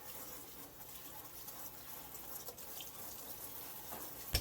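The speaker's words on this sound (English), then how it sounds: "now I'm gonna go ahead and just spray them" Cold tap water sprays steadily over blanched tomatoes in a kitchen sink, a quiet, even hiss and patter that runs unbroken with no talking.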